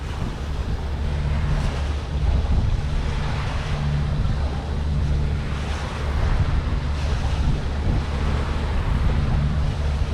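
Wind and sea waves surround a sailing boat at sea near the Canary Islands, making a continuous, loud rush of surf and buffeting wind noise with no talking.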